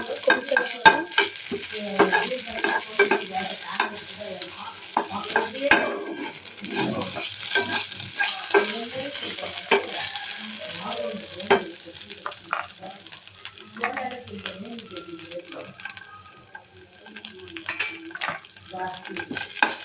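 Ginger garlic paste frying in oil in a pan while being mixed, with a continuous sizzle, repeated scraping and clinking of a spoon against the pan, and faint talk underneath at times.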